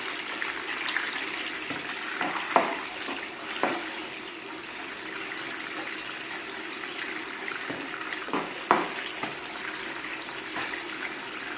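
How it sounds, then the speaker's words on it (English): Steady rushing water pours through a modified Gold Cube sluice outdoors, a continuous broadband gush with a few brief splashy surges, moderately loud and with no voices. "Could use a little bit more water flow."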